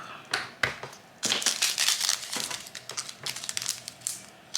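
Diamond painting canvas being cut, with a series of crisp crinkling, crunching snips and rustles of the plastic-covered sheet, close and fairly quiet, in irregular bursts.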